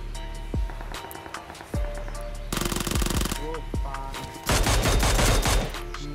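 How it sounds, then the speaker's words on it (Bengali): A bot firing an automatic gun in PUBG Mobile, heard as several loud, rapid bursts of gunfire with short single shots between them, close and growing denser toward the end. "ওখানে একটা বট ফায়ার দিতেছিল"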